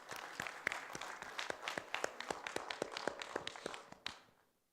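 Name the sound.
audience applauding Professor Abdul Raab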